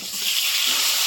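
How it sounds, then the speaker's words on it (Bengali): Pointed gourd (potol) frying in hot oil left in the pan after fish, a bright continuous sizzle and hiss, close and steady throughout. "দিয়ে আমি এই তেলের মধ্যে পটলটা ভেজে নেব"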